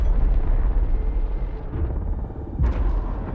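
A massive explosion at the Fort Linden military base in Battlefield 6 REDSEC, heard as a loud, deep, rolling rumble that sustains throughout, with a fresh boom surging up near the end.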